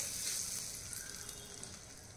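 Hot tempering oil poured into raw mango chutney hisses and sizzles steadily and up close, a brief continuous crackle with no talking.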